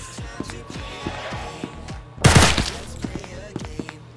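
A burst of rapid video game gunfire in SCP Anomaly Breach erupts midway, a dense clattering volley over steady in-game footsteps and background hum.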